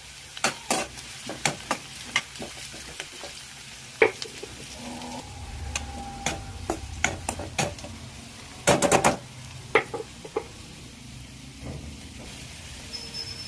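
Curry leaves hit hot oil with garlic for a spiny gourd (kartule) vegetable dish. Sharp, irregular pops and crackles burst over a low sizzle, including one dense cluster of spattering, with no talk.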